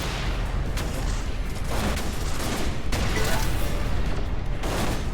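Gunfire strikes the player's ship in the space shooter Everspace 2, a dense, continuous rattle of hits and bursts that stays loud and steady throughout with no speech.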